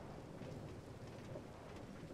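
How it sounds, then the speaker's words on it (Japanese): Steady rain in the Minecraft video game, a dense even hiss of falling drops with a low rumbling undertone, continuous and fairly faint, with no voices. "あと雨が鬱陶しい。"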